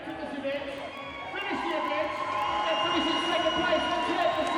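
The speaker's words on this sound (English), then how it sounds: "Applause all round." A crowd applauds and cheers at the podium ceremony after the Kyalami 9 Hour endurance motor race, a steady wash of clapping under a commentator's talk.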